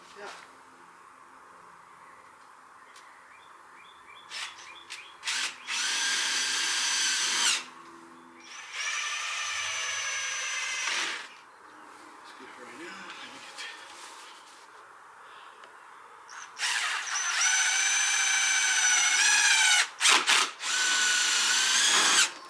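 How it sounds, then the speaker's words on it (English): A power drill drives self-tapping screws through a garden arbor into wood, in several loud whining bursts of a few seconds each separated by pauses, with faint outdoor background between them. "They're self-tapping screws. So that'll go right through the arbor into the wood."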